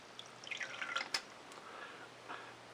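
Ink flushing from an Onoto De La Rue 5601 fountain pen makes soft, close drips and little liquid splashes. They come in a short irregular burst with a faint squirt, then a couple of quieter trickles.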